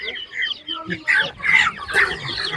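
Laying hens cluck in short, irregular bursts at an open-air animal market, close by and fairly loud, with other fowl mixed in.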